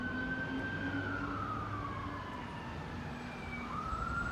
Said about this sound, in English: Oh no, they're gonna put the sirens on.